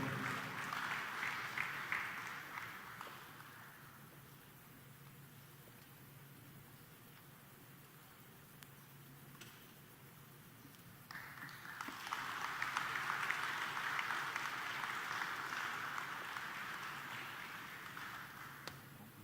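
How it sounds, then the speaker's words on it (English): Audience applauds the President at an inspection of upgraded C-130T aircraft, a faint distant wash of clapping that swells, dips, and swells again over a long stretch, with no talk. "Ladies and gentlemen, a round of applause and congratulations"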